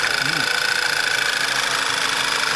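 A 2011 Volkswagen Passat engine idles steadily after a repair, a close, even mechanical hum with a faint ticking rhythm and a high whine riding over it.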